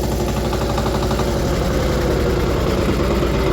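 A Kentavr 244 tractor's diesel engine chugs loudly and continuously with a deep, rumbling pulse, close by and unbroken.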